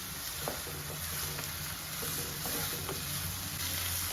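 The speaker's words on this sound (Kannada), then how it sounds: "ಸೊ ಆನಿಯನ್ ಸ್ವಲ್ಪ ಚೆನ್ನಾಗಿ ಫ್ರೈ ಆಗಲಿ, ಅಷ್ಟು ತನಕ ನೀಟಾಗಿ ಹುರ್ಕೊಳ್ಳೋಣ." Onions fry in a pan for chicken gravy with a dense, close, continuous sizzle, broken by light scraping taps as they are stirred.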